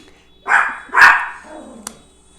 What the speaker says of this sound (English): the dog is barking when he hears the car barking outside